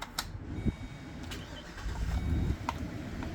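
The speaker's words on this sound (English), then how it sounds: "let's fire it up and listen to that 6-liter V8 turnover" A 2012 Chevrolet Express 2500 cargo van's 6-liter V8, converted from natural gas, cranks and catches, rumbling low and steady after a few sharp clicks, close by with no talking.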